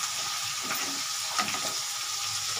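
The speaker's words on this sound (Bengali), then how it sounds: "আর একটা আমি দিয়ে দিচ্ছি সাইডে, তাহলে আস্তে আস্তে ভাজা হতে থাকবে।" Tangra fish fry in hot oil in a pan, a steady close sizzle and crackle with a few brief louder pops, no voices.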